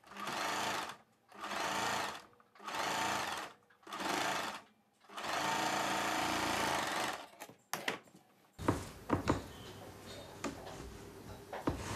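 A sewing machine stitches a blouse sleeve piece in several loud whirring runs separated by short pauses, followed by a longer run and then clicks and handling noises as the fabric is adjusted.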